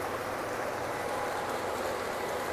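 Model trains run steadily on a Christmas railroad layout with light display, a soft continuous rolling rumble and hiss, fairly quiet and unbroken, with no talking.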